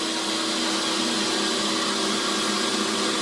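Refurbished Marvel V110A automatic bandsaw running steadily as it makes its first cut, a constant loud whirring hum of motor and blade with no pauses.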